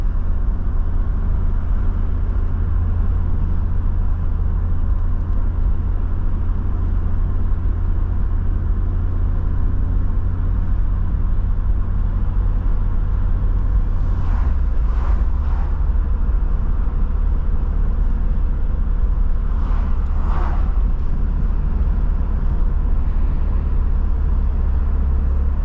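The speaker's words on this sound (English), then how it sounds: "It makes all the turbo noises." A turbocharged 1985 Merkur XR4Ti with 19K miles, its engine a loud, steady in-cabin drone and rumble during a drive, with a couple of brief hissing turbo bursts rising over it.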